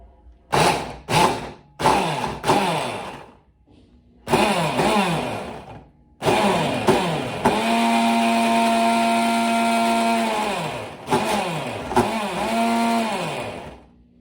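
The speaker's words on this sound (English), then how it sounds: "I've got my immersion blender with the little mini food processor attachment, and I'm going to make shrimp paste." Immersion blender fitted with a mini food processor attachment whirs loudly while making shrimp paste, running in several short pulses and then one long sustained burst with steady motor pitch, close up and without talk.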